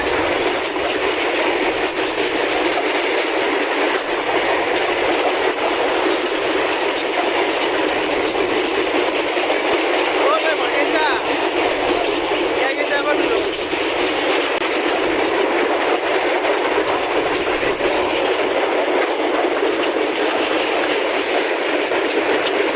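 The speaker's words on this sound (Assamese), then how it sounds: "বৰ্তমান ৰেলখান আহিছে, আমি ৰাস্তাটো পাৰ হ'ব পৰা নাই।" A train rolls past on the railway track close by, with loud, steady rumbling and rhythmic clickety-clack of the wheels that carries on without a break, and no voices.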